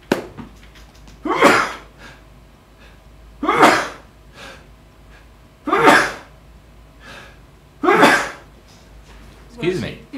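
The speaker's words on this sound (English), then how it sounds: "Y'all can go back and watch the video and hear me sneeze again." A person sneezes five times in a row, each a sharp close burst spaced about two seconds apart, with quiet breathing in between.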